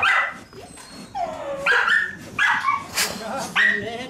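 A terrier barks and yips excitedly during rat hunting, sending out several sharp, close, loud barks in quick succession mixed with whines while people talk nearby.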